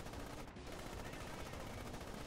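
Rapid aircraft machine-gun fire in the video game War Thunder, a dense continuous burst of shots that fills the whole stretch, loud and unbroken apart from a brief dip early on.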